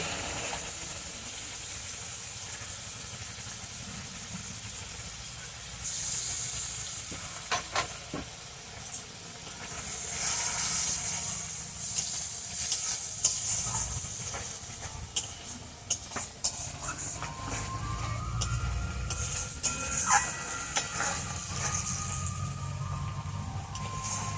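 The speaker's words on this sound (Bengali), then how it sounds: "এর মধ্যে আমি পোস্ত বাটাটা দিয়ে দিচ্ছি।" Poppy seed paste goes into a pan of soya chunks frying with green coconut flesh, giving a steady loud hiss and sizzle with scattered sharp crackles and clatters throughout, no talking.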